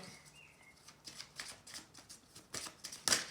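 Cards shuffled by hand for a weekly tarot-style reading, a quick run of soft papery riffles and flicks building to a sharper, louder snap near the end, close and alone with no talking.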